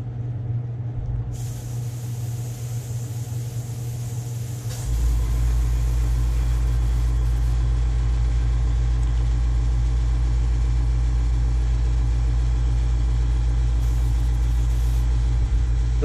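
A small 2-gallon air compressor kicks on partway through, its motor settling into a loud, steady hum and rumble that drowns out the quieter background before it.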